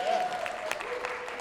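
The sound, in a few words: audience applause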